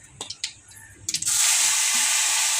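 Boiled onion-garlic paste hits hot oil for aloo dum, after a few light clinks of utensils. A sudden loud, sustained sizzle follows and stays steady and close to the end.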